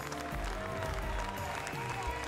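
Spectators at a Gasconne des Pyrénées cattle breed competition clap around the show ring. Steady applause blends beneath loud music with a heavy bass line.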